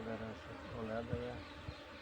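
Honeybees buzz in a steady, close drone at a hive kept by a beekeeper, heard with a voice talking over it.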